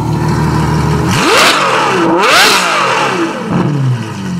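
A Ferrari F12 with its exhaust valves open revs hard twice, the engine note climbing to a sharp scream and falling back between blips, loud and close with no talking.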